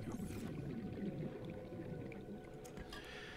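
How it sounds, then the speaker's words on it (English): Water being drunk in the video game Subnautica: a quiet, soft liquid gulp and splash with faint watery squishes, low and close. "Oh, I'll drink this water."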